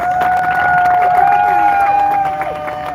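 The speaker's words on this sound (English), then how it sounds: "give yourself a round of applause" Outdoor crowd at a community peace gathering in a park giving themselves applause, loud cheering and whooping with clapping and crowd noise, voices calling out over it throughout.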